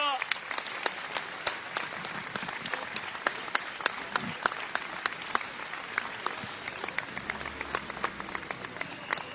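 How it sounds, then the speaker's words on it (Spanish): Sustained applause from a crowd at a farewell, dense continuous clapping with sharper individual claps standing out, alongside a voice talking. "Entre aplausos interminables, Franco"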